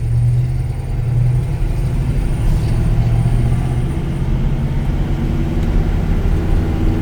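A 1984 Chevy C10 truck rolls along with a loud, steady low engine drone and road rumble heard from inside the cab, unbroken and without talk.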